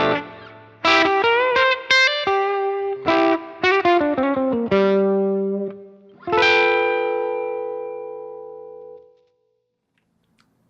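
Electric guitar through a Tweed amp with the tone knob lowered to 6, strummed chords and picked notes with a warm, slightly overdriven ring, closing on a big chord that sustains and fades into silence.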